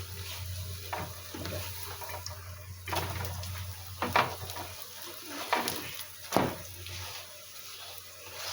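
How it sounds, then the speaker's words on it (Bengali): An aloo paratha fries in a generous amount of oil, a soft crackling sizzle with a low hum underneath, punctuated by several sharp scrapes and clatters as it is turned and pressed in the pan. "একটু তেল দিয়ে বেশি তেলেই ভাজবো একটু"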